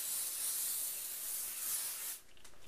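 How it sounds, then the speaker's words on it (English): An aerosol can sprays product in a steady, close, bright hiss lasting about two seconds before cutting off, leaving faint room tone. "Spray them up."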